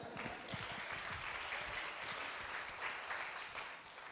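An audience at an evening business event applauds a colleague's birthday, producing dense, sustained clapping from many hands that fills the room at an even level throughout, with no voices on top.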